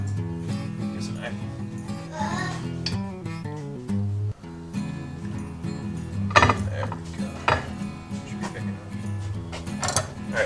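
Knife and cutlery clink and scrape against a pot of corned beef stew being cooked in broth, several bright metallic hits standing out over a steady background and occasional talk.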